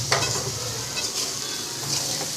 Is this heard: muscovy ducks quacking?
no